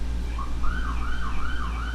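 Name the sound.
emergency vehicle sirens passing outside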